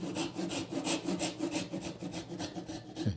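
Hand saw cutting a wooden lattice crossbar for a traditional Korean window frame: steady, close rasping strokes in a quick back-and-forth rhythm, moderately quiet, with no talking.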